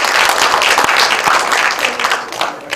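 Steady applause from an audience fills a library hall during a regional history and culture symposium, continuous clapping loud and close throughout with no talk over it.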